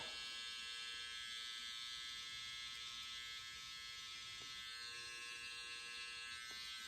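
Electric beard trimmer buzzing steadily at close range while trimming a mustache, a thin constant high whine with faint clicks.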